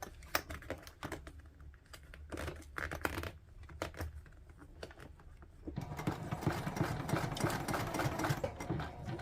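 A home sewing machine top stitches the gusset of a handmade bag with a lengthened stitch, bursts of rapid mechanical clatter starting and stopping, then a longer, louder continuous run close to the microphone.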